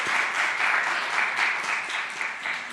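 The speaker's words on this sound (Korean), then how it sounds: "열심히 수고해주신 홍보팀에게 다시 한번 박수를 드릴까요?" A congregation at a young adults' Sunday church service clapping for the promo team, a full, even roar of applause held throughout with slight swells in intensity.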